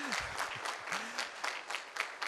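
A festival drama audience at the Dasara Music, Dance and Drama Festival breaks into dense, steady applause, loud and continuous with a voice briefly heard over it.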